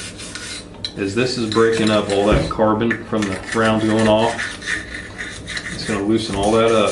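A brush scrubs carbon buildup out of an AR-15 receiver with cleaning oil, making close, rasping back-and-forth strokes under someone talking.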